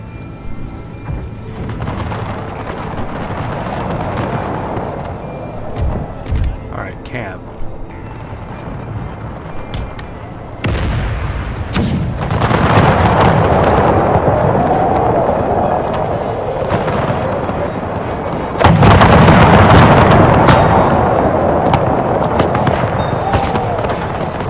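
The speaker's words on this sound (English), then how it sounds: "I need my cannon to take down that artillery" Cannon and artillery fire in the strategy game Total War: Empire, heard as a dense, rumbling battle din with booming surges and sudden loud jumps in intensity, continuous throughout.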